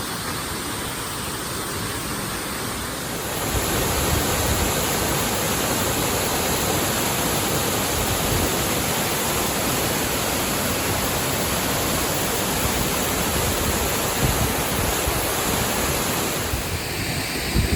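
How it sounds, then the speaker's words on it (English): Otter Falls on the Taylor River in Snoqualmie National Forest roars as a steady, dense rush of falling water. It is close and loud, swells after the first few seconds and stays constant with no voices. "Check out this waterfall though"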